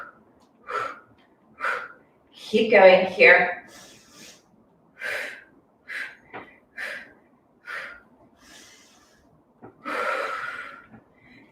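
Heavy breathing during a workout stretch, with loud sharp exhales and gasping breaths, one strong cluster and then steady regular puffs, close to the mic as an instructor speaks briefly.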